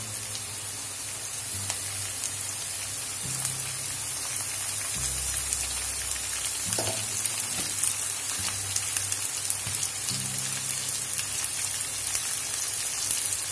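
Cabbage sizzles as it fries in a pan for Hakka chow mein, a steady hiss like rain running through the whole stretch, with a few low thumps and scrapes along the way.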